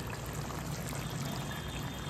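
Water poured into a pot of partly cooked meat to simmer, a steady soft trickling pour lasting throughout, close and even with no talking.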